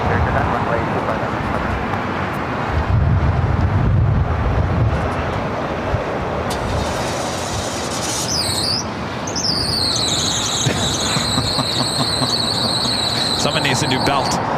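A vehicle's worn belt squeals at a loud airport near LAX runways. Its high, wavering squeal comes in partway through and holds steady over heavy wind rumble and aircraft noise, with talk mixed in.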